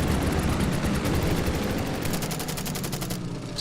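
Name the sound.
fighter plane firing at a Stuka in Order of Battle, video game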